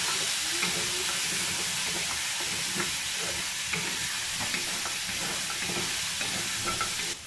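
Beef sautéing in a pan for Filipino beef kaldereta, producing a dense, continuous loud sizzle and hiss with faint stirring clicks and scrapes scattered through it, no voices.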